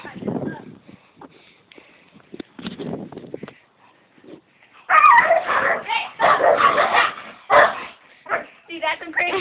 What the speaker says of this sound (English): you ready to see some crazy dog fights?